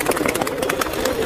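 Border pigeons, males and females mixed together in a pet shop in Andheri East, Mumbai, giving soft repeated cooing and wing rustles close by, with a busy indoor murmur underneath.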